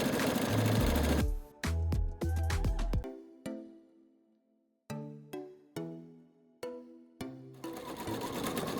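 A Pfaff Expression 720 electronic sewing machine stitches in loud motor bursts, running steadily, then pausing for sharp clicks and settling tones before short runs of stitching start again.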